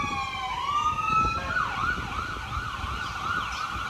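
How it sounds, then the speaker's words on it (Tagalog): An ambulance siren wails through rising and falling sweeps as the vehicle passes on a street in Queensland, Australia, fairly close and clear over low traffic rumble, with no talking. "Ambulansya yun guys."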